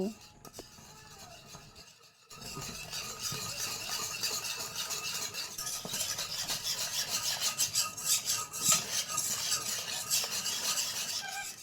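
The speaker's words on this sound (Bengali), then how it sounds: "এবার দিয়ে ভালো করে নেড়ে চেড়ে গুঁড়ো দুধটা মিশিয়ে নেব" Powdered milk is stirred into milk in a pot, a quiet start giving way to continuous rhythmic scraping and rubbing of a utensil against the pot bottom, close and fairly soft, with occasional faint talk.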